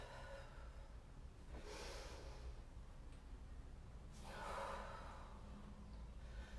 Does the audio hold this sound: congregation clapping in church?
no